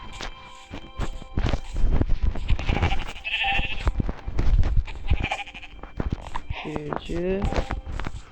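Sheep bleat in a Minecraft survival game, short nasal in-game calls recurring under continuous talk alongside footstep-like game sounds.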